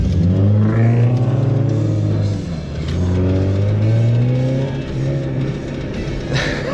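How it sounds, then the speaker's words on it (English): A Toyota Celica accelerates away on the road, its engine note climbing in clear rising sweeps, loud and close at first, then easing as the car pulls off into the distance. "Celica opened up a little bit, man, as he pulled away."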